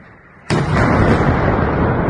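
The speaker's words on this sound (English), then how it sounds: "At least 14 huge explosions can be heard, most of them preceded by the sharp whistle of what sounds like an incoming missile." A single loud explosion from a missile strike in Russia's Kursk region bursts in suddenly after near-silence and is followed by a sustained, broad rumbling roar.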